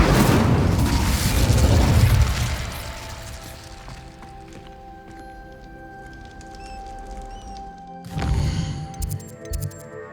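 Incendio fire spell cast in the Hogwarts Legacy game, a loud whooshing burst of flame that fades into quiet ambience with faint tones, then a second sharp burst near the end.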